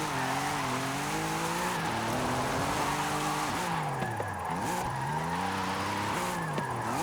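An Audi RS5 drifting in Forza Horizon, its engine revving up and down in wavering sweeps while the tyres squeal and skid continuously, loud and close, with no talk.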